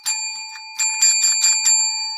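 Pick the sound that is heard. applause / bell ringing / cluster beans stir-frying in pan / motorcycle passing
bell ringing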